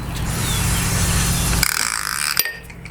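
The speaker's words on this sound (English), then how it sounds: "Now that everything's in, you can listen for the compression." Volvo Redblock engine turned over slowly by hand in a home garage, giving a loud, continuous mechanical grinding and whooshing of compression with a faint ratcheting, easing off after about a second and a half.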